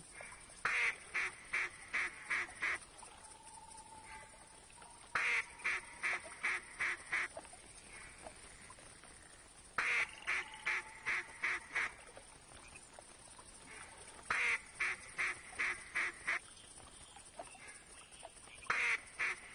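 Repeated bursts of duck quacking in theHunter duck hunting game, rapid series of five or six calls each, recurring roughly every five seconds, loud and close against a quiet background.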